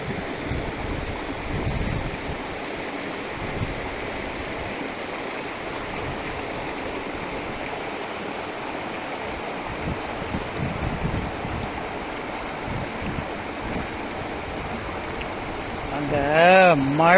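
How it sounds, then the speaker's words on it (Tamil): Rain-fed waterfall beside the road to Yercaud, a steady broadband rush of falling water held at an even level throughout, with a brief louder swell and a short burst of other sound in the final second. "அந்த மழை தண்ணி வருது பாருங்க அருவியில், அந்த தண்ணியோட சவுண்டு பாருங்க எவ்வளோ அழகாக இருக்குன்னு"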